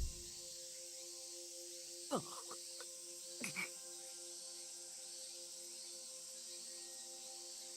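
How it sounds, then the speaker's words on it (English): A constant, dense shrill of cicadas from a visual novel game, Tsukihime: A Piece of Blue Glass Moon, holds steady throughout, and a couple of brief sharp clicks or knocks break through it. "The shrill of cicadas threatens to pierce my eardrums like a needle."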